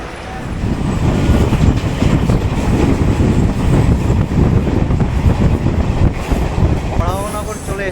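A Kolkata local train rolls out from Dakshineswar toward Baranagar, loud steady rumble and rattle of carriages heard from on board, with a brief rising whine near the end.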